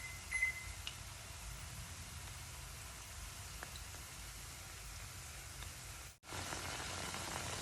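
Chicken pieces for orange chicken frying in hot oil, making a continuous even sizzle that cuts out for a moment near the end and then resumes at the same level.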